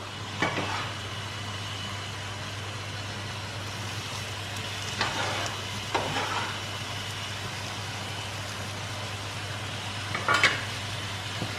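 Tomatoes stirred into a sizzling chicken curry gravy. A steady low sizzle runs throughout, with a few brief scraping stirs near the start, around the middle and close to the end. No one speaks.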